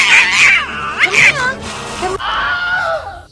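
A cat meows and caterwauls in several loud, close, drawn-out wavering cries, heard alone with no talking.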